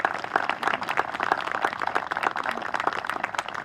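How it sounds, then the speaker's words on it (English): A crowd applauds at an outdoor park renaming ceremony in Rockland County, steady scattered clapping from many hands that stays even and fairly close for the whole stretch. "Can we all give them a round of applause if you don't mind?"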